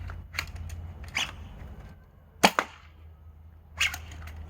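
Toy foam blaster firing Nexus Pro darts from a Katana magazine: a few sharp, close snapping shots with short mechanical clicks between them, spaced unevenly over a low steady hum.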